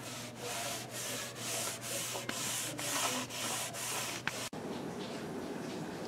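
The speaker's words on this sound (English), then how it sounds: "we'll start applying some stain" Wood stain rubbed by hand across sanded wood on a 75 gallon fish tank stand, heard as steady close swishing strokes in a regular back-and-forth rhythm, each pass a soft rasp, ending with a sharp knock and duller rubbing.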